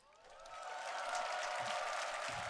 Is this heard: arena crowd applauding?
yes